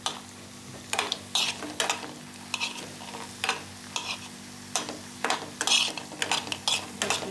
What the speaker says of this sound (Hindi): मैं बड़ी इसमें डाल रही हूँ। इसको थोड़ा सा फ्राई करनी है, डीप फ्राई नहीं करिएगा।